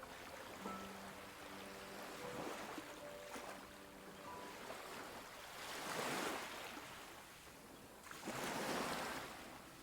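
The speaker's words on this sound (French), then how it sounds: "Observe la vague qui vient le mouiller, le laver, l'emmener peut-être." Ocean waves wash in at the water's edge of a pebble shore, a low continuous rush that swells into two louder breaking surges before fading, with no voices.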